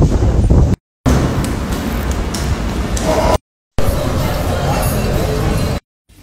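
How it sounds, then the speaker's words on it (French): Wind buffets the microphone outdoors in Lyon city centre on a warm day, a loud, rough low-frequency roar cut by brief gaps of silence, with faint city background and indistinct voices beneath. "Le temps est bon, un petit peu de vent, il fait chaud"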